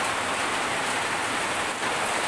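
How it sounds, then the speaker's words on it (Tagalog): Heavy rain pouring in a rural provincial setting, a loud, dense and steady hiss of drops heard close and alone, with no voices. "Lakas ng ulan o."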